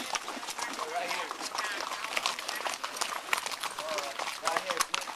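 Horse hooves clip-clop in a quick, uneven rhythm during an outdoor horseback ride near the Arenal Volcano in Costa Rica, with people talking over the hoofbeats.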